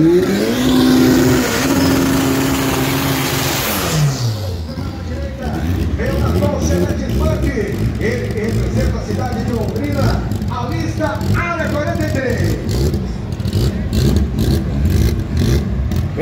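A Chevette race car engine revs hard on a track, climbing in pitch and then dropping off, followed by a rough, fluctuating engine drone under an announcer's running commentary.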